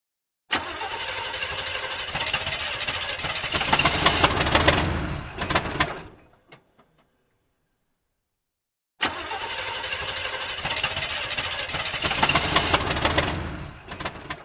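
A semi truck engine cranks and roars to life, running loud and close for several seconds, cutting out abruptly, then after a silent pause starting up again and running steadily.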